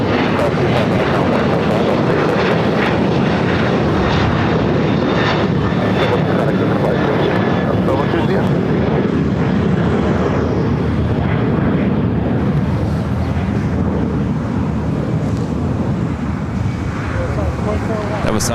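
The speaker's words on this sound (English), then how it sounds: "That was Southwest Airlines flight 1202 heading to Dallas Love Field, 737-800." A Southwest Airlines Boeing 737-800 jet at LAX fills the scene with a loud, steady engine roar that holds at full strength from start to finish.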